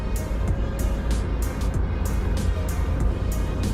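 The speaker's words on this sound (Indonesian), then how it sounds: "cuman suara roda yang bergesekan dengan beton ini masih cukup terdengar ya." Wuling Confero S tyres rolling on a concrete road, heard from inside the cabin as a steady, continuous broadband roar with faint repeated thumps over the joints, no voices.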